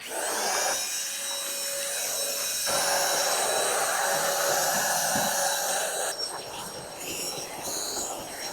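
Vacuum cleaner running over carpet in a Japanese home, a continuous whining hum with rubbing and scraping as it moves, briefly changing pitch near the end.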